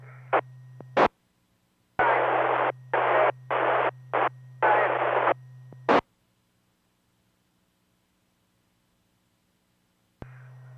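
Bursts of loud hissing radio static cut in and out in choppy blocks over a steady low hum, then fall silent before the hum returns.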